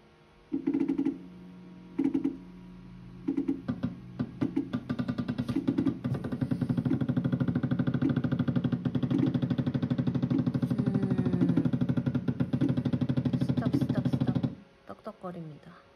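A ceramic clay 3D printer's motors run fast and loud, a dense mechanical roar near at hand: after a few short bursts the machine grinds on steadily for about twelve seconds before cutting off abruptly.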